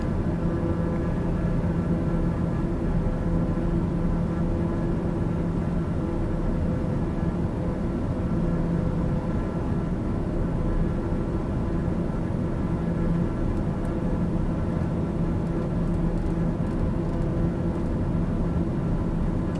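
An aircraft engine holds climb power in a flight simulator, giving a steady, loud, droning hum with a constant tone throughout and no talk.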